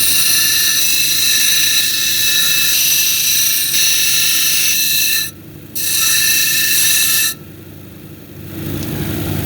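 An 80-grit lapidary grinding wheel shapes an orbicular jasper cabochon, giving a loud, steady mechanical whine that drops out briefly twice partway through before resuming.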